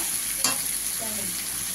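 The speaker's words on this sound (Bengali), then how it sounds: "পেঁয়াজটা লাল লাল ভাজা হবে, তারপর সবজিটা দেবো। দিয়ে দিলাম সবজিটা ঢেলে।" Onion and vegetables frying in a pan, a brief close hiss and crackle of sizzling oil with a light stir or scrape partway through, no voices.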